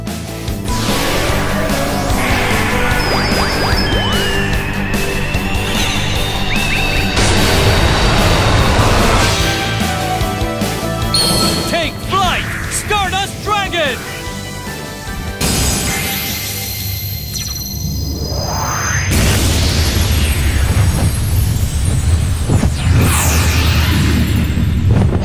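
Synchro Summon effects in the Yu-Gi-Oh Duel Links video game: loud layered game audio with whooshing sweeps, shimmering tones, crashes and booming impacts that shift through several stages over about 25 seconds.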